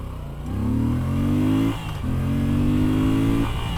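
Moto Guzzi V7 Sport motorcycle engine on the move, a loud, close, throbbing note that pulls up in pitch, dips briefly as if shifting, then climbs again.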